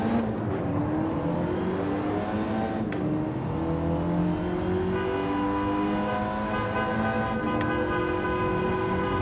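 A race car in Gran Turismo 7 launching and accelerating, its engine note climbing steadily through the gears in a loud, continuous drone, with short breaks at gear changes.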